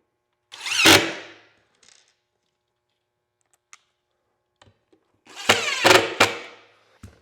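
A power drill drives screws into a wooden cabinet door in two brief bursts, several seconds apart, with faint clicks and handling sounds in the near-silent gap between them.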